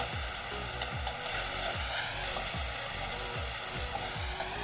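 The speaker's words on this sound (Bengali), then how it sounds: "টমেটো বাটার সঙ্গে আমি ভালো করে একটু কষিয়ে নেব, যতক্ষণ না আর কাঁচা গন্ধটা চলে যাচ্ছে।" Spices fry with ginger-garlic paste and tomato paste in a pan, a dense steady sizzle with rhythmic stirring strokes about every half second, close and alone.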